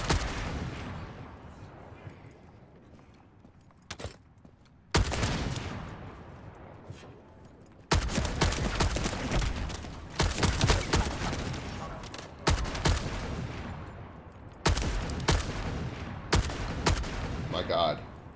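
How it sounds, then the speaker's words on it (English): Gunfire bursts in The First Descendant, a futuristic looter shooter, come in repeated rapid volleys with short pauses between them, loud and close, and someone speaks now and then over the shooting. "How many times can I shoot past his fucking face?"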